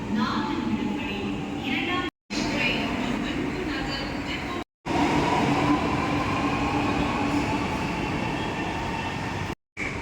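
A Chennai Metro train rumbles and roars steadily nearby, a continuous heavy rail noise with faint squeal, with voices talking over it.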